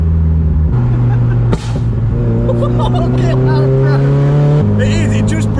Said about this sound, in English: the little burbles as well when you're coming down sound gorgeous